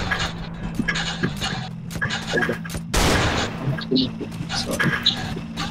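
Gunfire crackles through a GTA SAMP gang shootout, with sharp repeated shots scattered across the clip and a dense loud burst near the middle, under steady game noise and a low engine-like drone.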